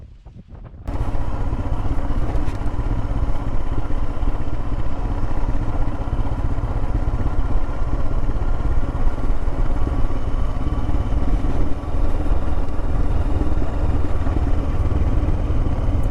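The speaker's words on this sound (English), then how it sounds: "This is a motorcycle adventure after all." A motorcycle rides along the Pacific Coast Highway (Highway 1) in California, its engine and wind roar starting abruptly and holding loud and steady throughout, with no talk.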